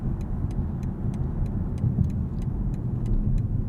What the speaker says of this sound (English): This i7 is very quick around town. Just instant on and off throttle.